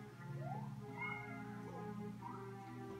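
A cat meows several times in short rising and falling calls, fairly close, over a steady quiet background hum.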